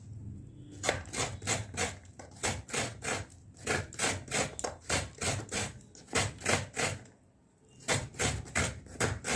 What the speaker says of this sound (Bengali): নারকেলটাকে আমি কুড়িয়ে নিচ্ছি, তারপর আমি এটাকে পেস্ট করবো।